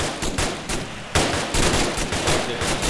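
Enemy gunfire in an Arma 3 military operation, a rapid string of sharp rifle shots in quick bursts, steady and fairly loud throughout.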